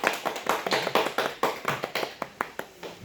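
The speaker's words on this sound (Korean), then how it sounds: "우리 한번 환영의 박수로 한번 하도록 하겠습니다" A church congregation clapping in welcome during a Sunday service, a run of distinct claps in a loose, uneven rhythm, fairly close and moderately quiet.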